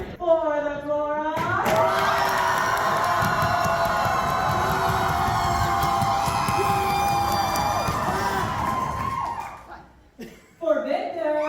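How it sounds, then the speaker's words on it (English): Convention audience screaming and cheering loudly for the chorus side of a crowd contest, a sustained roar with whoops that swells for about nine seconds, then fades as a host's voice comes back in. "you guys can scream as loud as you can"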